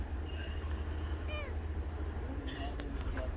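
A cat meows twice, short and fairly close, against a steady low background hum.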